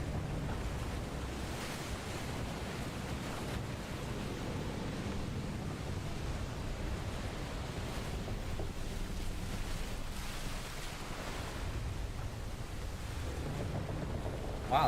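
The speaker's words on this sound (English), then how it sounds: "the waves parted and then the ship just plummeted to the bottom of the sea and then it collapsed in" Ocean waves surging in the Final Fantasy XVI video game as the sea parts and a ship plunges, a sustained roaring wash of surf and wind noise, fairly even and without talk.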